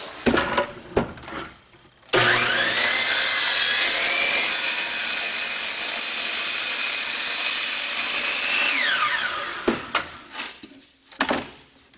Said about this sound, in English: I'm going to use my cutoff saw to get a square edge on it